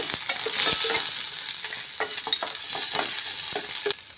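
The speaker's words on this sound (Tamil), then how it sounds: "பூண்டு பொடிசாக கட் பண்ணி ஆட் பண்ணிக்கோங்க. பட்டரில் நல்லா வதக்கி எடுத்துக்கோங்க." Finely chopped garlic sautéing in butter in a pan for a vegetable soup: a steady, close sizzle broken by frequent scraping clicks of a spoon stirring, with no voices.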